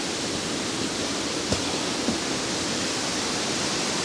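A stream pours over a weir near Črnava lake above Preddvor, making a steady, loud broadband rush of water that stays continuous throughout, with a couple of faint clicks.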